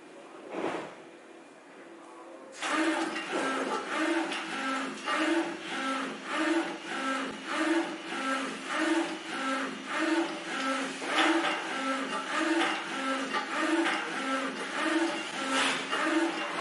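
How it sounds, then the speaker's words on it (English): Neixo X3050DH industrial UV DTF double-head printer running a print job, a steady mechanical whir with rhythmic shuttling pulses of the print heads repeating about once a second, close and continuous after a brief quieter start. "Now we could take a look at the printing processing from this printer."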